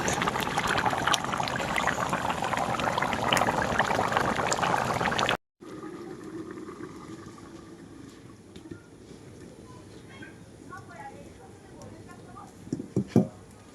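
Fish curry with fried fish pieces simmers in a pan on a village stove, giving a steady bubbling hiss for about five seconds before it cuts to quieter kitchen sounds with a voice talking.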